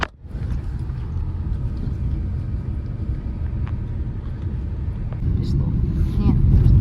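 Car interior on a road drive, a steady low engine and road rumble that swells slightly toward the end, with faint speech now and then.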